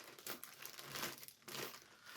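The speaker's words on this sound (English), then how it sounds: "let's open up this first package and see what we get" A crinkly package being opened at a crafting table, close, soft plastic crumpling and rustling in uneven bursts that run on throughout, with no voices heard.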